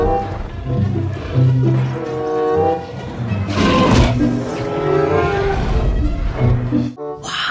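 Low bellowing calls of a Stegosaurus in Jurassic World Evolution 2, several drawn-out moaning roars over game ambience, loud and close, ending abruptly.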